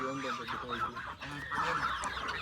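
A sick hen that had been sitting on eggs gives harsh, honking clucks in a short close burst, with people talking nearby.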